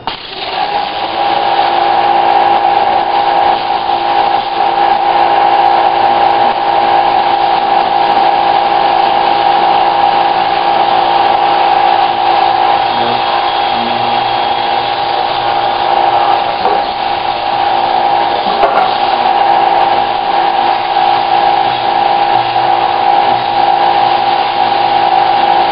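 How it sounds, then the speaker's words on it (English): A pressure washer sprays a screen printing screen during reclaiming and de-hazing, a loud steady hiss running continuously without a break and never letting up. "This is why you really need a pressure washer to do this"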